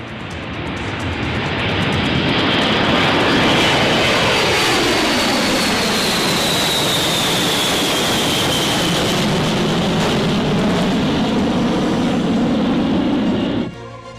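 F-35 stealth fighter jets during the Cope North multilateral exercise at Andersen Air Force Base, Guam, roar past with a loud sustained engine rush whose pitch shifts as they pass, then cut off abruptly at the end.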